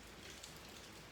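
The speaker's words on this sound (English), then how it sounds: "It's raining" Steady rain falling during a hurricane in New Orleans, a dense, even hiss that holds without a break for the whole second.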